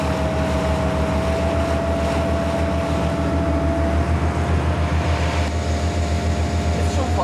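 A fishing cutter's engine runs in a steady, loud, continuous drone with a deep throbbing hum and a faint tonal whine while the boat's gearbox is tested underway; voices are heard over it.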